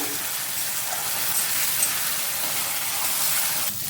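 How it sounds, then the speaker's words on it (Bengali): Ginger, garlic and onion paste frying in a pan, a dense, steady sizzle with hissy crackle holding evenly throughout at close range, no voices. "এটাকে 1 মিনিট একটু ভেজে নেব"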